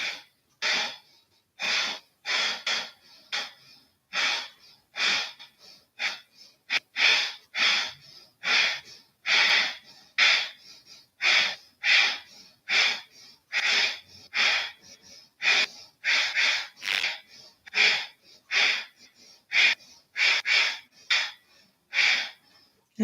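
Deep, rhythmic breathing during a sunrise yoga exercise, with forceful, audible inhales and exhales repeating steadily in close succession and no speech over them.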